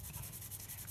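Quiet, rapid rhythmic rubbing of 2000-grit sandpaper polishing a plastic model car, close up and soft, with no talking.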